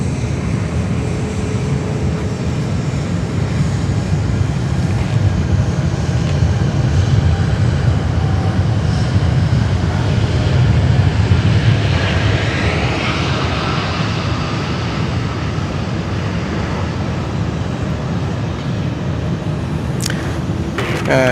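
A Japan Airlines Boeing 787 passes at Sydney Airport, its engines a loud, steady broadband roar that holds throughout, with a faint voice briefly audible.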